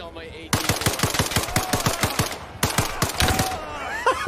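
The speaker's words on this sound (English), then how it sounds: "I just shot him through his front window" Automatic machine gun fire in the military video game ARMA Reforger, two loud sustained bursts of rapid evenly spaced shots separated by a short pause, with faint voices under the shooting.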